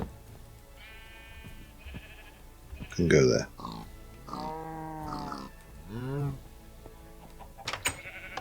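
Sheep bleat repeatedly in a video game world, several drawn-out wavering calls up close, alongside grunting animal noises and someone talking over them.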